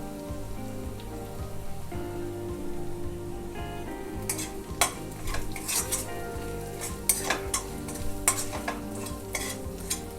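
Ground garam masala is stirred into a simmering chicken korma masala in a pan, with a steady low sizzle under it and a run of sharp spoon scrapes and clinks against the metal in the second half.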